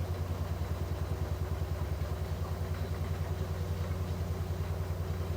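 An LG WM3770HVA front-loading washing machine with its drum spinning up steadily to about 600 RPM: a continuous low motor hum with a fast, even pulsing rumble and light clatter, close and fairly loud.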